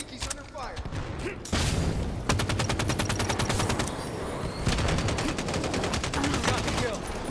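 Gunfire in the video game Halo 5 Guardians: rapid automatic bursts and repeated single shots crackle loudly across the scene, with in-game voices talking underneath.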